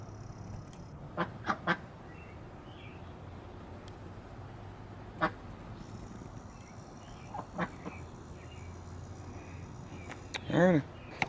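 Ducks quack inside a large fly trap, scattered short quacks at close range and a louder burst of rapid quacking near the end, over a quiet outdoor background.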